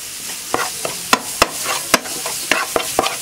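Green masala for Ammayi Kuntham sautés in a pan, a soft steady sizzle broken by sharp rhythmic scrapes and clacks of a stirring spoon, close and clear with no talking.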